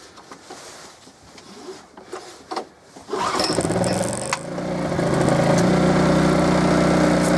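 A Honda portable generator's small engine cranks and catches with the choke set, roaring up to a steady, loud running drone after a few seconds of quieter shuffling and handling noise.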